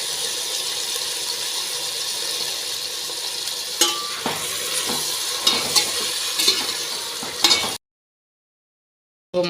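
Mutton sautéing with salt in garlic and onion paste for mutton kulambu, a constant close sizzle broken by scraping stirs and light clacks against the pan, then a sudden cut to silence.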